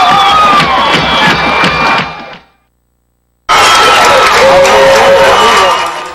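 A packed crowd at a 1994 high school football game roars and cheers loudly, a dense wash of shouting voices that cuts out abruptly into silence before surging back at full volume.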